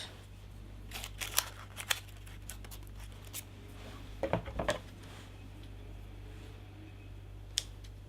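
Scissors snip through sugar paste while shaping a cake shoe, giving a few quiet, sharp clicks spread across the stretch, with a small cluster near the middle and a steady low hum underneath.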